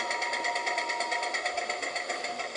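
A steady buzzing whine with a fast, pulsing rattle: the converter sound effect of a PIKO EN57 model electric train, electronic and continuous, close and fairly loud, with no talking.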